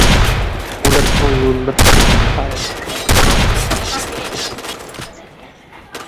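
Rapid bursts of gunfire from a shooting video game crackle loudly in several fast volleys with brief gaps, while players shout and chatter over the shots.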